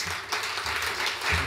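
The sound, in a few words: audience applause for speaker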